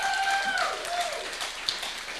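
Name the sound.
audience round of applause for presenter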